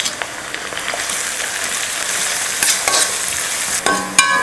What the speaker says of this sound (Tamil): வெங்காயத்தை இது போல் நல்லா பொன்னிறமாக வதக்கிக்கணும்.